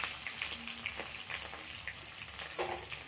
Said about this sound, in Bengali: ফোড়নের মধ্যে আমি তেজপাতা আর হচ্ছে পাঁচফোড়ন আর পেঁয়াজ কুচিটা দিয়ে দিচ্ছি।